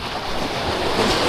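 Strong sea waves surge and crash close by in a loud, continuous roar, with wind buffeting the microphone.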